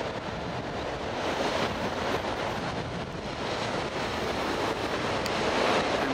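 Steady wind buffets the microphone at Loch Sport Surf Beach, with a continuous broadband rush, probably mixed with surf, that stays loud and even throughout.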